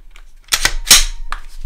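Glock pistol fitted in a CAA Micro Roni chassis firing a few sharp, loud shots in quick succession at close range, alone without talk.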